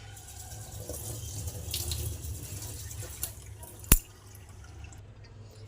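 Used tea leaves being rinsed under a running kitchen tap, with a steady low water flow and splashing, a sharp clink near the middle.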